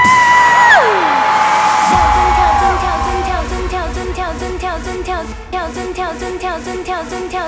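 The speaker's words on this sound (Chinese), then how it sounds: "尖叫声！" Concert crowd screams and whoops at a 2018 New Year's Eve countdown show in Taoyuan, starting with a rising shriek, then carrying on loudly over pounding, rhythmic pop music with a steady beat.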